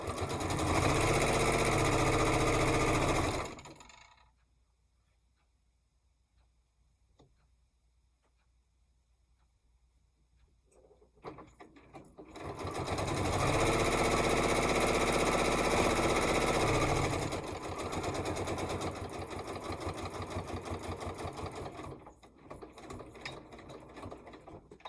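Sewing machine stitching through quilt layers with the presser foot, running in loud rapid mechanical bursts of several seconds each, separated by a long quiet pause, with no talking.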